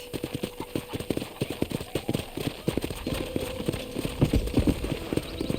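Horse hooves clip-clop steadily at a corral in the Red Dead Redemption video game, a brisk rhythmic series of close, clear hoofbeats continuing throughout.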